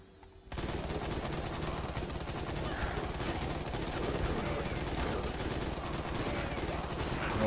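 Rapid gunfire in the video game Gunnheim, a dense stream of shots that starts abruptly after half a second of quiet and rattles on steadily and loudly to the end.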